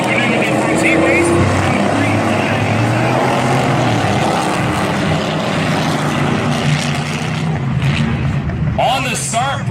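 Racing trucks roar around a dirt oval during a heat race at Valley Raceway, a dense continuous engine drone with passing surges, while an announcer talks over the noise.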